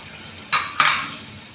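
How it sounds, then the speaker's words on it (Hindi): Tomatoes tossed into a pan of frying garlic, ginger and green chillies, giving a brief clatter and a second metallic scrape of stirring with a soft sizzle fading behind it. "ये टमाटर भी इसी के साथ शामिल कर देंगे।"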